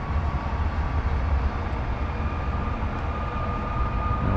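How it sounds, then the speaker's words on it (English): A freight train rolls past outdoors in Calgary, a loud, steady broadband rumble with a faint high whine that holds at the same level for the whole stretch, with no voices. "Oh, another train heading out."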